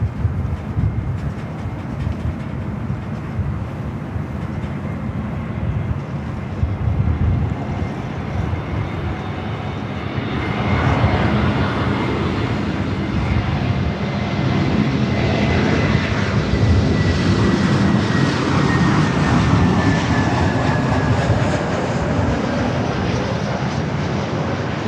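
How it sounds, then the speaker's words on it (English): A JetBlue Airbus A321neo arriving at LAX from JFK gives a steady, loud jet roar that swells and holds throughout, with a faint whine above the rumble and no talking. "Next arrival is JetBlue, flight 223, coming up from JFK. It's an A321neo."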